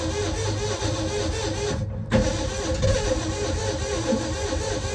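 A Ford F-250 engine with its choke closed cranks with a steady churning drone after fuel is added, breaks off for a moment, then resumes and keeps running, close and fairly loud.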